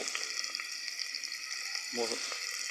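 Garlic frying in hot cooking oil, a continuous bright crackling sizzle with a brief low voice murmuring partway through.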